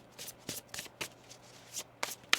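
Tarot cards being shuffled by hand, quiet close riffles and soft slaps in a quick irregular run of bursts, with no talking.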